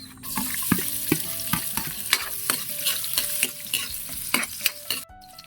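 Garlic and onion sauté in hot oil for bulanglang with catfish, crackling loudly up close while a spatula clatters against the pan in a quick, irregular rhythm, with no voices.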